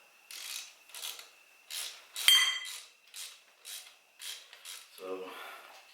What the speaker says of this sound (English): so we just got to remove this bolt here.